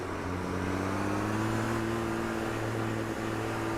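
Diesel race truck engine in the racing sim Automobilista 2, a deep, steady idle rumble with a low droning hum, close and continuous without speech.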